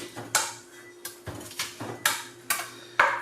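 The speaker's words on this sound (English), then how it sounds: "And then just give it a bit of a rough chop there." Knife roughly chopping garlic on a cutting board while making pizza sauce, a series of irregular, fairly sharp close-up knocks spaced about half a second apart with no talking.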